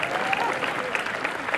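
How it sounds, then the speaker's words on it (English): Audience applause at an animation film festival Q&A, a steady sustained clapping from a crowd throughout, with a voice faintly over it. "you still gotta applaud"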